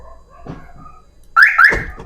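Two quick, loud electronic lock chirps from a Toyota Hiace Commuter van's alarm close by, following faint low background noise.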